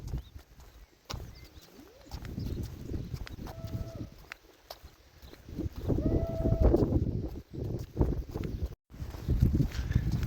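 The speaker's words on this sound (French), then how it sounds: "C'est pas une vache, c'est un taureau." Fighting bulls (toros bravos) in a field give two drawn-out lowing calls among shuffling hooves and rustling ambient noise.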